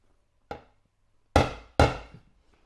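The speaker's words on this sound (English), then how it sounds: "Let's get a centre punch in the middle of that hole there." A hammer strikes a centre punch set in the middle of a hole before drilling: one lighter tap, then two sharp, loud metallic knocks in quick succession, each with a brief ringing tail and quiet between them.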